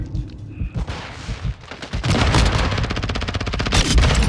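Rapid automatic gunfire from a Call of Duty: Modern Warfare II match on the Zaya Observatory map: scattered shots at first, then a dense, loud, sustained volley of bursts that fills the second half.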